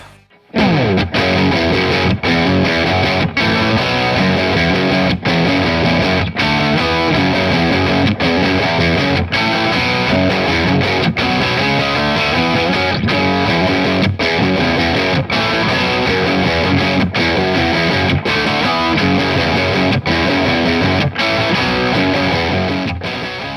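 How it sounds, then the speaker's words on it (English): An electric guitar through a Bogner Wessex overdrive pedal plays a dense, continuous, heavily overdriven riff with sharp rhythmic accents, loud and saturated throughout, no voices. "I needed a distortion pedal that would not disappear in live situations."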